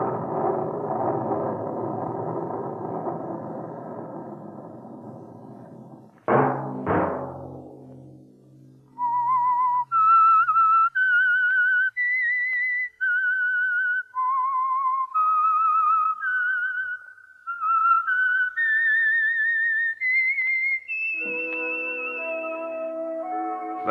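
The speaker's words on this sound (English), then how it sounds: "Let that whistle be your signal" After a few seconds of music, a few sharp knocks lead into a clear whistled melody of distinct rising and falling notes, solo and close, ending as instruments return.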